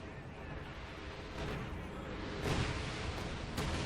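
Strafing-run support attack in the WWII strategy game Company of Heroes 2, heard as a fairly quiet, continuous rumbling roar of gunfire and blasts that swells in places, with a few sharper bursts standing out.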